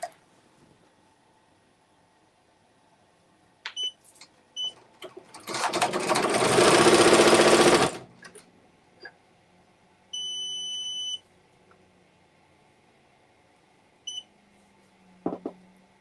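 A BAI 15-needle embroidery machine runs loudly for a few seconds and then halts on a thread break, followed by several short electronic beeps and a longer alert tone, with scattered clicks around it.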